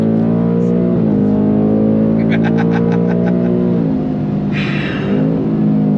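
A 2024 Ford Mustang GT California Special engine drones loudly up close, its pitch climbing and dipping as the throttle is worked, with a brief run of electronic beeps.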